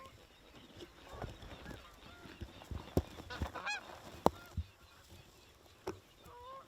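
Geese honk intermittently at a distance during an early-season hunt in North Dakota, scattered calls rising over quiet field ambience with a few sharper, louder honks.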